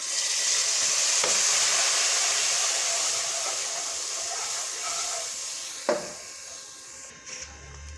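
Milk poured into vermicelli frying in a pot brings a loud, broad sizzling hiss that gradually softens, with a sharp clink partway through and stirring sounds near the end.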